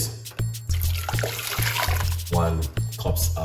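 Hot water poured into a cup in a home kitchen, a steady liquid stream with splashing running throughout, partly under a persistent low hum and brief talk.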